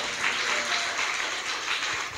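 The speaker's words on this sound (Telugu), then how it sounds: "ఒకసారి చప్పట్లో కూడా దేవుని స్తుతిస్తారా?" A church congregation clapping in praise during a Sunday service, a steady, even wash of many hands heard from within the room.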